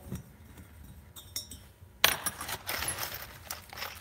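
Metal nuts and bolts clink and rattle while being sifted by hand during Predator 212 engine head work, with light scattered jingles followed by a louder burst of jangling, close and without talk.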